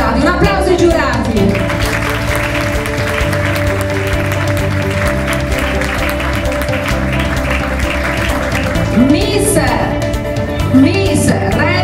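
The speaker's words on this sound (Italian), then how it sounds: "un applauso ai giurati" Audience applause for the jurors at the Miss Red Carpet 2018 national final beauty pageant in Venice, steady clapping that holds loud throughout, with music and a host's voice over it.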